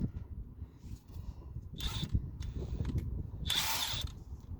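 A ratchet wrench undoes an 18mm nut on the front suspension of a Ford Fiesta Mk7, producing short quiet bursts of clicking ratchet strokes against low background rumble, with no talk.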